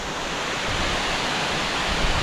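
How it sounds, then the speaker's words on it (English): Steady, loud roar of rushing, falling water from Love Waterfall in Hoang Lien National Park, Sapa, Vietnam, filling the whole clip, dense and broadband with no pauses or voices. "The waterfall is wonderful."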